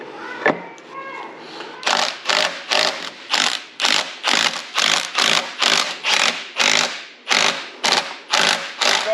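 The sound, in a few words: wrench torquing bolts on a transfer case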